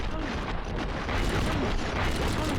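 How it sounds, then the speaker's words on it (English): Grenade blast in the video game Enter the Matrix, a dense, sustained rumbling roar of explosion noise filling the whole stretch at steady loudness with no clear single hit. "So that's me throwing a grenade while doing the twist."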